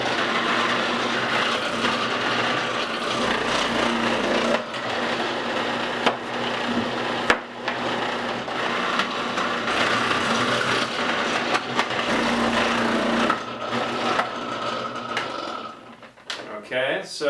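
A food processor with a grating attachment shreds zucchini, a steady motor whine and hum running continuously for most of the stretch, then cutting out near the end.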